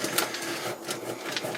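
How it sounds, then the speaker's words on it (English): Cheese is rubbed against a hand grater in quick, rough rasping strokes, close and steady, with no talking. "I'm grating some cheese for this because everything's just better with cheese on it."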